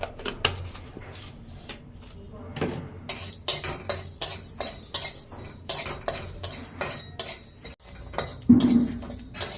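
Dry spices roasting in a pan for a Bengali chicken stew, with a spoon scraping and clinking against the metal in a steady, busy rhythm and a faint sizzle underneath.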